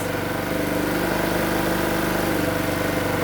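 Small portable generator engine running steadily at idle, its even mechanical drone and vibration filling the whole stretch with a slight surging unevenness, close and loud with no talk.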